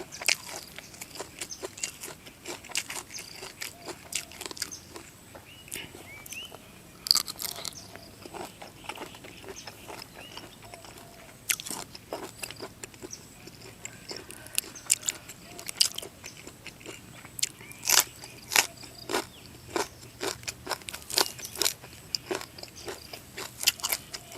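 Someone eats a spicy pounded Thai shrimp salad with green chilies outdoors in an evening grassy field, giving repeated close crunchy bites and chewing over a quiet open-air background, with no talk.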